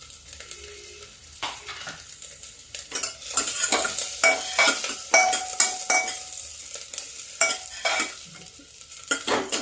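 Garlic, green chili and ginger fry in hot oil while a spoon stirs them, giving irregular scraping clatters against the pan over a low sizzle, close with no talking.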